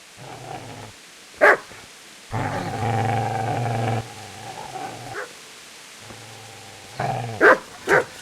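A dog in the video game Kingdom Come Deliverance lets out sharp barks between long, rumbling growls, close and loud, with no talking.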